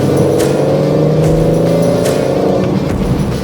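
A 2025 Aston Martin Vanquish's V12 engine gives a loud, steady, deep drone heard from inside while it pulls along, with a slight rise in pitch and no talk.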